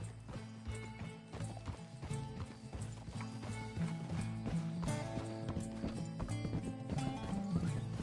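Horse hooves clip-clop at a steady trot in the open-world game Red Dead Redemption 2, mixed with a dense music score, with a brief whinny possible amid the steady loud bed of sound.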